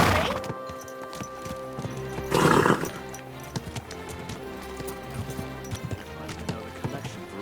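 A horse whinnies and clip-clops past in a medieval town in Kingdom Come: Deliverance 2, its hooves a steady near rhythm over a busy background, with one loud neigh standing out in the middle.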